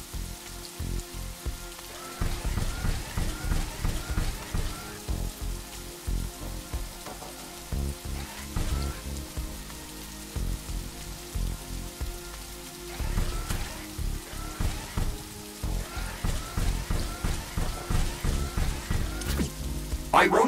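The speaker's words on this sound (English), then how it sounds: "It's raining. It will decrease the output from solar panels until it stops." Steady rain pattering in a video game, falling continuously with dense, crackling drops throughout, swelling in bursts and fairly close.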